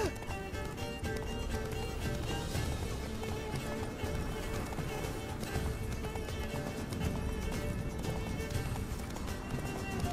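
Roach, Geralt's horse in The Witcher 3, gallops in a steady rapid hoof rhythm throughout, dense and close, under a full musical score with voices talking over it.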